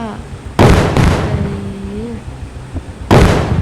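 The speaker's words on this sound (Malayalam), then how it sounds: "കുറച്ച് പടക്കം പൊട്ടിക്ക." Two loud, sharp bursts of firecrackers in Indian Bike Simulator 3D, a few seconds apart, with a voice talking between them.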